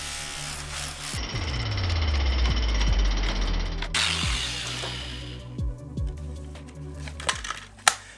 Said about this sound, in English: I'm going to use a couple different rotary hammers now to control a little bit more where I'm breaking the concrete